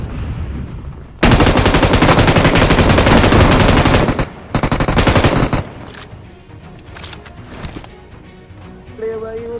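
Automatic gunfire in the mobile shooter BGMI: long, dense bursts of rapid shots, loud and close, then shorter scattered shots and clatter as the fight trails off.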